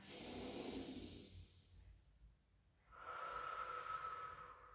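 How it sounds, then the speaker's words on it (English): A long, deep breath is drawn in and then released during a rehab pilates exercise, each phase a broad airy rush, close and fairly quiet with a brief lull between inhale and exhale. "try and really take a big inhale and a big exhale as you can"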